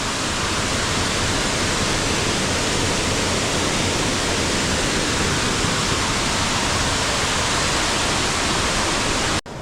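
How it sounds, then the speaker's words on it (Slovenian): A karst stream pours into a sinkhole cave, a dense, loud, unbroken rush of water filling the whole stretch without voices before cutting off at the very end. "Tukaj pride potok."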